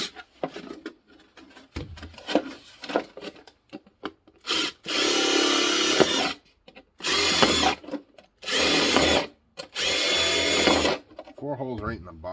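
A power drill fitted with a 1/4 inch bit bores drainage holes in the bottom of a container, in four loud grinding bursts separated by short pauses, after scraping and handling noises at the start.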